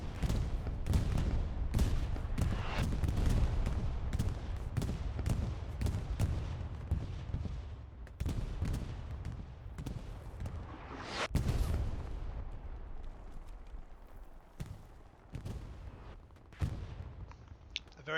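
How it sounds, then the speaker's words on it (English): Bombing run in the World War II shooter Hell Let Loose on Omaha Beach: heavy booming explosions and rolling artillery blasts mixed with bursts of gunfire, loud and continuous throughout, with one especially big detonation near the middle. "A very nice bombing run from the Axis commander there, Unknown Tribute, to clear the Allies' airhead route to the point"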